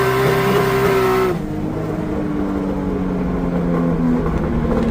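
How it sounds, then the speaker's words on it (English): A BMW E30 on launch control pulls hard from a standing start, its engine revving loud and high before a sharp shift from first to second gear drops the pitch and the engine climbs again close by. "Yeah, and that was like first into second gear."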